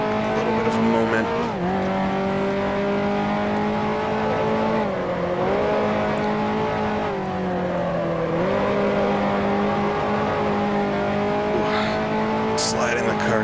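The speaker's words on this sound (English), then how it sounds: "Sliding the car quite a bit." A 1955 Formula One race car slides through corners at the Dutch Grand Prix in Grand Prix Legends, its engine revving hard and steadily with pitch dips as it shifts, loud and continuous, with faint tire squeal.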